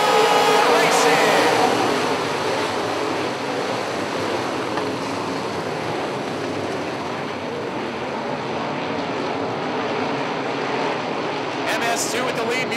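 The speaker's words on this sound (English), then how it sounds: "We are off to the green. We are racing." Modified race cars take the green flag on a short oval, a dense continuous engine roar of the whole field at a steady loud level, with a crowd-like wash and a brief higher whine near the end.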